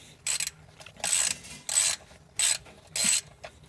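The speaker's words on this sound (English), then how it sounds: "You can see it here, 13mm socket. So we're just going to get it loose." A ratchet with a 13mm socket loosens the sump plug on a Mercedes W124, giving five short close clicking bursts spaced in a steady rhythm.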